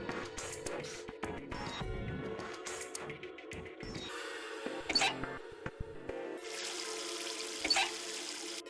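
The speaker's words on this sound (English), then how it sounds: "And then we're going to fill this jar with water." Water runs from a tap into a jar in the Zero Escape video game, a steady continuous stream with brief shifts in pitch as the jar fills, alone with no talk.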